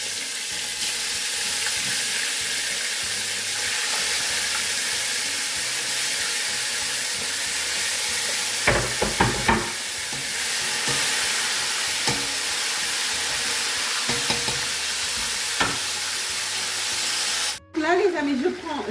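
500 g of meat fries in a pot with a steady loud sizzle and hiss throughout, broken by some stirring clatter and a brief spatter near the end, with a voice faintly beneath.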